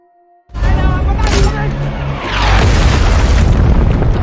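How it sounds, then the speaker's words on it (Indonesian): A terrorist's RPG rocket strikes its target in an action film, a sudden loud boom that erupts into a sustained, roaring explosion with rumbling debris, dense and continuous for several seconds. "Teroris itu pun langsung menembakkan RPG-nya lagi ke arah Sugar dan RPG itu pun tepat mengenai Sugar dan Bishop."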